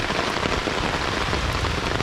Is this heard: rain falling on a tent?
yes